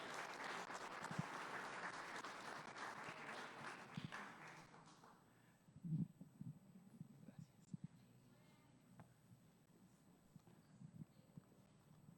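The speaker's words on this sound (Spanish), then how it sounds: "Recibámoslo con un aplauso" Church congregation applauding a guest speaker at a Saturday missionary conference, a fairly faint wash of clapping that fades after a few seconds, followed by quiet room sounds, footsteps and murmurs.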